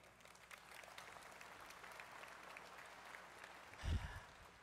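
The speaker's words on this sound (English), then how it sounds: "Give them a round of applause." A commencement audience at Delgado Community College gives a round of applause, a soft, distant wash of clapping from a large crowd with a brief louder thump near the end.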